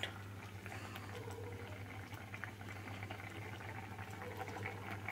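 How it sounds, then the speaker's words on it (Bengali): A pot of dal fry (pigeon pea dal) bubbles at a low, steady simmer, its quiet gurgling boil continuous and unbroken throughout, with no voices. "এই যে আমার ডাল ফ্রাই ফুটে এসেছে"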